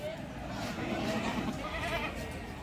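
Goats bleat in short repeated calls amid the crowd noise of a busy livestock market at Pasar Wage Keden in Pedan, with people talking all around.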